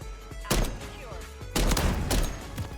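Several sharp, loud gunshot bursts ring out in a Call of Duty match, spaced irregularly with brief gaps between them and faint background game noise.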